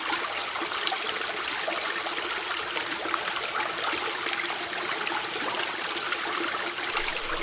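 Steady, rushing river water flows continuously with a broad, noisy hiss, loud and close throughout, with no voices.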